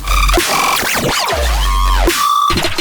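Busy, warped synth glitches, pitched down, sweep and stutter in layers, with punchy low hits and sharp snare-like cracks cutting through the texture.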